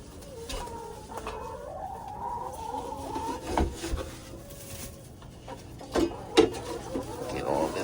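Chickens cluck and coo softly in a coop, with scattered louder clucks and a few brief knocks and scrapes nearby.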